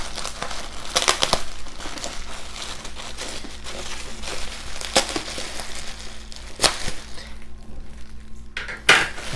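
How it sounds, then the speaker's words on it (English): Taped bubble wrap packaging being pulled off a graded collectible in scattered crinkling, tearing bursts, with sharper rustles at intervals and quiet gaps between them, close to the microphone and with no talking. "I got half the bubble wrap off."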